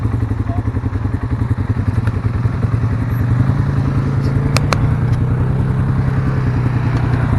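A 2020 Polaris Sportsman 570 ATV on big tires revs loud and close, its engine droning with a rough, pulsing throb while the wheels spin at takeoff.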